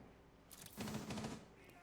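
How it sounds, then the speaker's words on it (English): A rapid burst of Rainbow Six gunfire crackles for about a second, fairly close, over a quiet background. "Does hear the gunfire."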